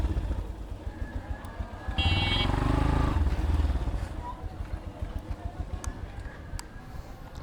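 A Yamaha FZS V4 motorcycle revs up and accelerates close by, its engine swelling to a loud roar for about two seconds before settling back into a steady running hum.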